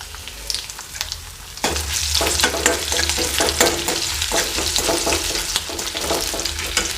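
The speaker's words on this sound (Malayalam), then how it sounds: "ഇനി നമുക്ക് അരിഞ്ഞ് വെച്ചിരിക്കുന്ന ഇഞ്ചിയാണ് ആദ്യം ഇടുന്നത്." Chopped ginger and curry leaves hit hot oil and burst into a loud, steady sizzle close by, with a dense crackle of pops and spatters running on unbroken and no voices.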